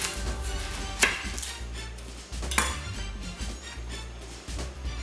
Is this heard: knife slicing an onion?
yes